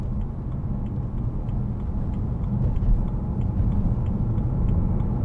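A 2011 BMW M3 coupe with the 4.0 V8 and DCT gearbox rounds a roundabout, giving a muted, continuous engine and tyre rumble that swells slightly partway through.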